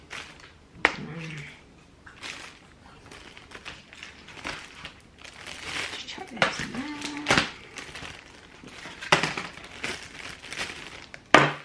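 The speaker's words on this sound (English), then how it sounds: "I'm just going to like put them in a plastic bag" Plastic bag crinkles and rustles in scattered bursts close by while someone talks briefly.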